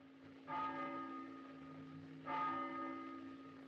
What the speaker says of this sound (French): On retrouve la mère à son fourneau avec ce même son de cloche au loin.